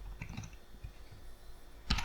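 Code typed on a computer keyboard, a short burst of soft key clicks heard close and quiet, ending with a louder clatter.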